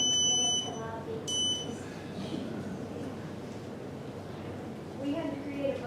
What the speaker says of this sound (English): when you mash the button, it makes a loud beep